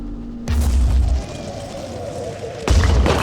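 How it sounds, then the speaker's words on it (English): Grenade explosion in the video game Phoenix Point: a loud booming blast with a low rumble, then a second heavy detonation near the end. "I think I'm going to take another grenade shot in that direction just in case"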